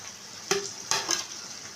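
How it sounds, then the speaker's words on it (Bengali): Fried okra and potato stirred in a sizzling pan with sugar, a steady hiss broken by a few brief scraping strokes of the spoon, close and alone. "এখানে যে ভেজে রাখা ঢ্যাঁড়স আর আলুটা আমি দিয়ে দিলাম"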